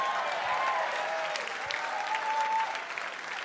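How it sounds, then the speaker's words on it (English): Steady applause from a stand-up comedy audience, dense and continuous clapping filling the room for a few seconds with faint crowd murmur, no voice on top. "how about one more round of applause for me"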